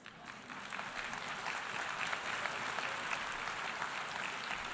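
An audience gives sustained applause, many hands clapping in a dense, even patter that swells in and holds steady, fairly distant and soft, in a hall at the United Nations.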